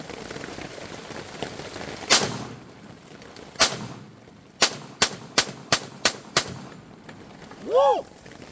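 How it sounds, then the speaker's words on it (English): Pistols fired outdoors in the rain, several sharp gunshots cracking out singly and then in a quick string of five or six, loud and close, with rain in the background. "We're just gonna keep on shooting our pistols."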